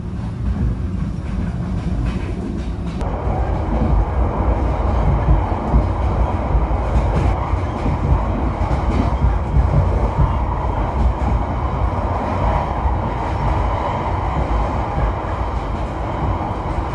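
Train travelling to Nha Trang, Vietnam, heard from aboard as a constant loud rumble with rhythmic wheel clatter and no voices.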